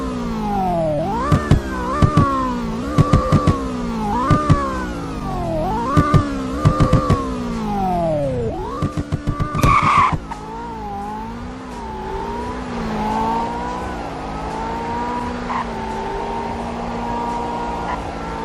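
The Speciale sports car in the Roblox game Greenville revs loudly in repeated rising engine pulls with sharp gear shifts, then brakes and settles into a steady lower drone, close and alone.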